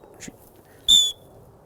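A sit whistle blown during a gun dog training seminar for water marks: one loud, sharp, high-pitched blast lasting about a quarter second, with faint low rustling before and after.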